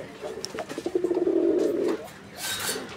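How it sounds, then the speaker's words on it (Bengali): Pot-necked pigeons cooing at a seller's coop, one short rolling coo close by, with someone talking around it. "এটা হচ্ছে পাতিল গলা"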